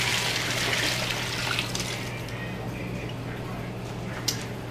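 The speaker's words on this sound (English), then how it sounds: "And we're just going to pour it in." Gravy mixture is poured into a pan over fried pork chops for smothered pork chops, making a steady, soft liquid rush and trickle that fades slightly, with a small tick near the end.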